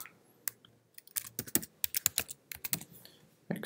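A password tapped out on a computer keyboard: quick irregular clicks in short bursts with brief pauses, close and moderately quiet.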